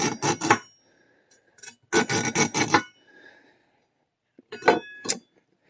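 A stiff nylon-bristle pipe cleaner scraped in a test, three bursts of harsh close bristle rasping separated by pauses, with faint clinks between.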